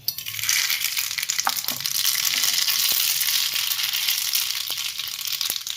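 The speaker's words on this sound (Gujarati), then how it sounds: "રાય બરાબર ફૂટી ગઈ છે" Hot oil crackles and spits with small popping bursts scattered over a steady sizzling hiss, close by.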